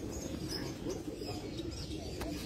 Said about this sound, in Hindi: कबूतर ऐसे दिखाओ जरा